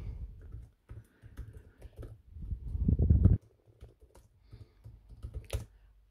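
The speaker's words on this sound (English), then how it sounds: "Let's check the keyboard." Typing on the keyboard of a Dell Latitude 9420 2-in-1 laptop, a run of quick, soft clicking keystrokes close by, briefly heavier in the middle, then sparse scattered taps.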